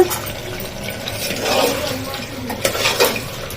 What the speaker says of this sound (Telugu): ఇంకా ఉప్పు కారం వేసుకొని మంచిగా కలిపేసుకోవాలి